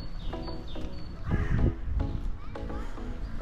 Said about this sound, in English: Birds are so talkative around here.